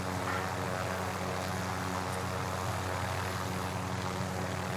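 A hostile helicopter in a video game, its engine and rotor drone holding steady and fairly loud throughout, with no talk over it.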